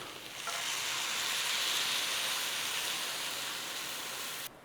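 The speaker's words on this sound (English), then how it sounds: "And then we're in there with our beef broth." Beef broth pours into a hot pan of cooked flour, setting off a loud, steady sizzle and hiss with stirring that holds for several seconds before cutting off.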